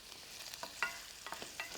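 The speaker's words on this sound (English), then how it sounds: "You can hear that nice sizzle." Summer vegetables with cumin sizzle quietly in a pan with a steady hiss, broken by small pops and a scrape or two of stirring.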